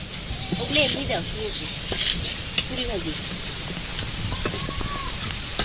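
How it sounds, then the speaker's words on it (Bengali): Rain beginning to fall outdoors during cooking over hot oil: a steady soft hiss spread across the scene, with occasional bird chirps and people talking over it. "বৃষ্টি এসে পড়ছে"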